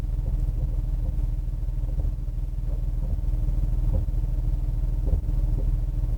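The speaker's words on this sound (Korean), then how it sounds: "이게 에어서스가 움직이는 소리거든요." Air suspension on a Maserati Grecale shifts to a higher off-road ride height while the car sits idling. A low, steady hum and rumble runs throughout, broken by a few soft thumps and puffs.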